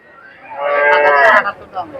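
A cow at a Kalampur livestock market gives one long, loud, close moo that swells and then cuts off, with a short softer call just after it.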